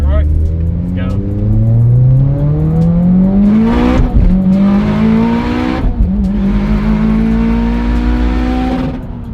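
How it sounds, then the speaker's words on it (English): A Subaru STi engine revs hard and accelerates through rising pitch sweeps with gear changes, loud and close from inside the car, with voices speaking over it. "That rev motor sounds so weird."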